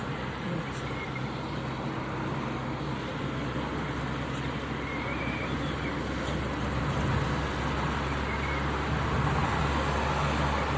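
A car's engine hums steadily from inside the cabin during a driving lesson, with low road and engine drone throughout and slight shifts in pitch, as if gears are changing; the sound is moderately quiet.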